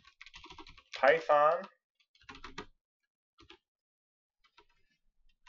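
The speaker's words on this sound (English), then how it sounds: "in the search bar, we're going to type" A person speaks briefly, then a few soft computer keyboard keystrokes tick out in small, sparse clusters in a quiet room.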